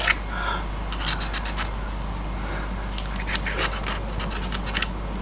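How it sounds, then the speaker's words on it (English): A blade scraping old gasket material off the axle face of an MGB MK1 banjo axle, close rhythmic rasping strokes in short bursts, separated by pauses, over a steady low electrical hum. "I'm just going to get a blade quickly and just trim those off"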